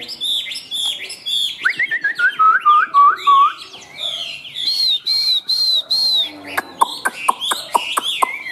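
A Chinese hwamei songbird sings loud, varied whistled phrases with rapid trills and sharp chirps, close and continuous over several seconds, with no talk over it.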